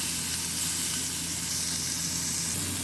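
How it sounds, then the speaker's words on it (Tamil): Tomatoes are sautéed in a pan for a soya chunk curry, with a loud, continuous sizzle and steamy hiss that holds steady throughout, with no speech. "நாங்கள் தக்காளியை சேர்த்து வதக்கி கொள்வோம்"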